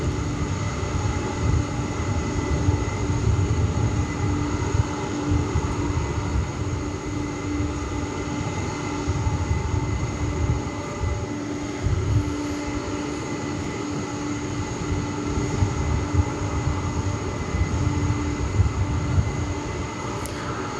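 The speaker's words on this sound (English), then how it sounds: "Over here on runway 18 left is American Flight 577. It's going to Denver. It is an Airbus A321" An American Airlines Airbus A321 on runway 18 Left at DFW airport, a steady roaring jet engine rumble with a constant whine that holds loud and unbroken throughout, no voices.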